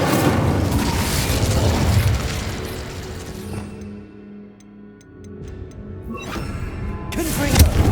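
A fire spell cast in Hogwarts Legacy gives a loud, sustained roaring burst that fades into a quieter lull with faint ticking, then swells back up at the end.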